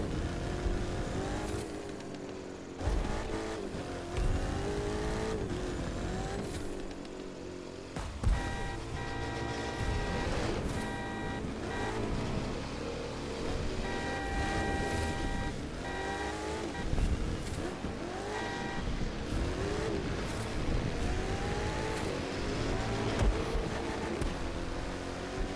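A Ford Mustang engine in The Crew 2 drones loud and steady throughout, its pitch rising and falling through repeated gear shifts, with no talk over it.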